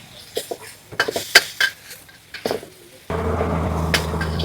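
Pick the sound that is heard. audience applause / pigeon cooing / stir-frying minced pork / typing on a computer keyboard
stir-frying minced pork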